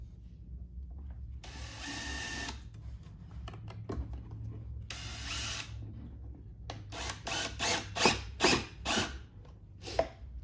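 A power drill whirs in several short bursts, driving screws to mount a subwoofer on a 2018+ BMW K1600 motorcycle, with quieter pauses and clicks between the runs and no speech.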